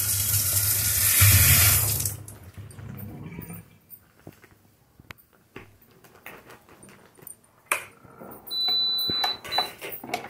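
A tap pours water into a bowl holding eggs, a dense rushing flow for about two seconds that then stops, followed by scattered clinks and handling noises of the bowl.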